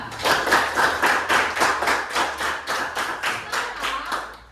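A school class claps in unison for a classmate, a rhythmic series of about a dozen sharp group claps at a steady beat, close and fairly loud, with no talking.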